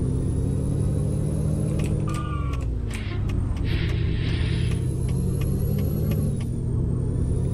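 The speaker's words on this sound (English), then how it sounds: "start the engine up" A heavy truck engine in Euro Truck Simulator 2 with ProMods, hauling a 60-tonne tank, rumbles in a deep, steady drone, with a hiss of air brakes and small mechanical clicks over the continuous low roar.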